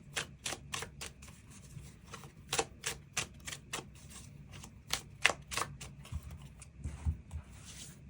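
Tarot cards shuffled and drawn for a love reading: a steady run of crisp, close slaps and riffles with many sharp card snaps, fairly quiet and free of talk.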